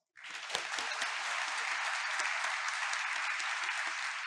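An audience at a conference opening breaks into sustained applause, steady and dense clapping that starts abruptly and continues throughout.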